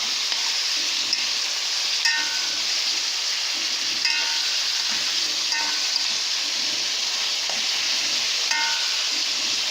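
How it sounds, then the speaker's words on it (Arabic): Meat for a Kabab Halla stew frying in a pot, a steady close sizzle with scraping stir strokes and spoon clinks on the pot recurring every second or two, no talk. "بفضل اقلب في اللحمه كده عشان كلها تبقى لون واحد اهو"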